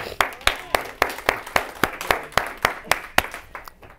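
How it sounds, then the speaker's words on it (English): Steady, evenly spaced hand claps ring out, a single rhythmic clapping pattern repeating about four times a second rather than a dense crowd. "Give yourself a round of applause."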